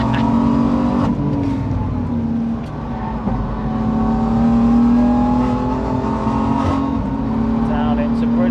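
A 525 bhp BMW F80 M3 engine pulls hard on the Nürburgring circuit, a steady loud in-car drone holding high revs with brief shifts, continuous throughout.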